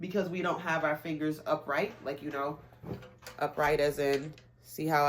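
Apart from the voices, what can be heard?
None of the usual background noises is heard.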